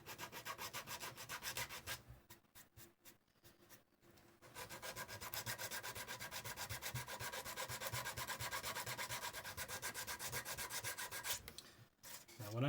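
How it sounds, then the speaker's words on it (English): Hand sanding glazing putty off a 3D printed figure, a steady close scratchy rubbing that pauses briefly near the start and then runs continuously, with no talking. "Now, when I'm sanding this glazing putty off, I mentioned before that you're going to take off most of what you put on."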